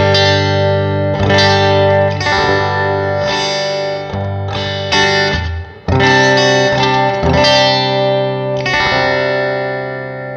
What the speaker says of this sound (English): Very nice sounding guitar.